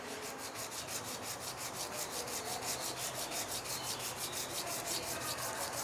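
A finger rubs back and forth by hand in relief printmaking, making a brisk, continuous, close rasping swish of evenly repeated strokes with no talking.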